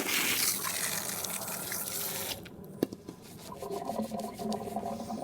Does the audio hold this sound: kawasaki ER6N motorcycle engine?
no